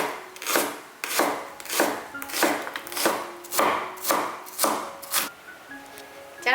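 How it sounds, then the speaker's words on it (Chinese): A knife chops half an onion on a cutting board in about eight even, steady strokes, each a crisp close knock with a short swish between, no talking. "准备半个洋葱切碎"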